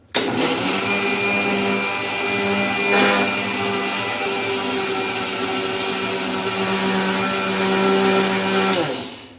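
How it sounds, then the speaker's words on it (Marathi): A kitchen mixer grinder runs steadily for about nine seconds, whirring as it grinds roasted dal coarsely, with a steady humming drone that cuts off sharply at the end. No one speaks. "डाळ आपण आता मिक्सरला बारीक करून घेऊ"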